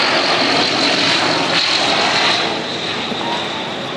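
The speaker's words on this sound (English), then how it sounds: "This C-160 making a steep combat approach." Transall C-160 military transport aircraft on a steep combat approach, a loud, sustained roar of turboprop engines that slowly fades slightly toward the end.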